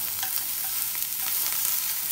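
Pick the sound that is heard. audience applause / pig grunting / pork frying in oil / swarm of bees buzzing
pork frying in oil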